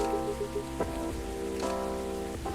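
Steady patter of rain on a surface in the video game Coffee Talk 2, soft and continuous, with a faint looping musical tone underneath and no voices.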